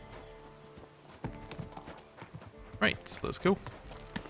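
Horse hooves clip-clop in Kingdom Come: Deliverance II, a run of hoofbeats starting soft and growing louder and quicker toward the end, with someone talking briefly over them.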